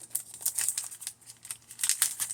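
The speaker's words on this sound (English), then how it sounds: "Sorry for the crinkling." Plastic packaging from a craft mystery box crinkles close by in bursts of sharp rustling, several quick crackles in irregular clusters with brief quiet gaps, and no talking.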